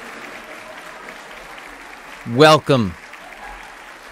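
Steady applause and crowd cheering from a podcast sound effect plays at moderate level throughout, briefly covered by a single spoken word from a nearby voice.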